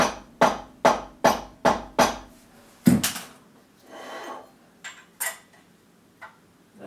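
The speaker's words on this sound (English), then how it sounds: "So we just tap that to get it true." A hammer taps a steel motorcycle frame tube on a Triumph Tiger Cub special frame build to true it: five evenly spaced sharp metallic knocks, then a louder strike and a few scattered lighter taps and clunks.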